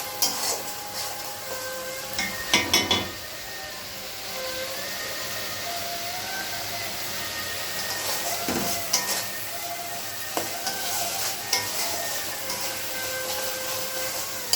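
Spices with Kashmiri chili powder being sautéed in oil in a pan, a steady hissing sizzle with a few sharp spatula scrapes and clatters, close and fairly loud, with no talk.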